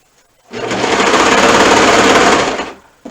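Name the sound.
sewing machine sewing a shoulder seam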